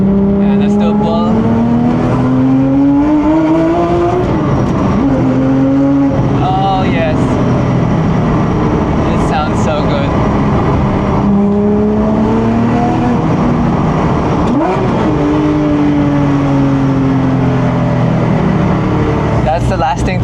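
A 4.3 liter naturally aspirated car engine revving repeatedly, each rise in pitch followed by a drop back, loud and close throughout, running in a car still needing repairs.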